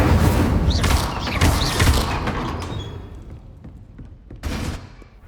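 Casting the Incendio fire spell in the video game Hogwarts Legacy sets off a loud burst of whooshing flame with thuds and crackles, which fades and then flares once more near the end.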